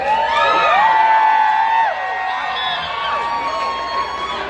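A home crowd at Art Battle Seattle, a live painting competition for the Washington State Championship, cheers and whoops loudly and steadily, with shrill whistle-like cries sliding over the roar.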